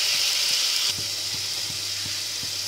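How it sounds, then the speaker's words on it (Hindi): Tomatoes fry in an onion and spice masala in a pan, with a steady close sizzle and a few soft stirring knocks spaced through it, no talk. "टमाटर भी मैं छिलके उतार दिए थे, इन्होंने मसाले में भुन लेंगे"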